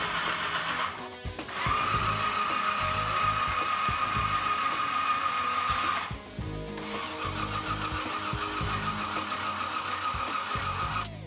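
Supercharged 427 engine of a Chevrolet Bel Air cranking, a loud whirring starter with a high whine that runs for several seconds, cuts out briefly, then cranks again without catching.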